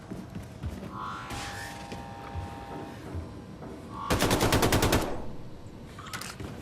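Automatic gunfire at a shooting range in the video game Wolfenstein II: The New Colossus, a sustained rapid burst of sharp shots over steady background hum, with a few lighter mechanical clicks around it.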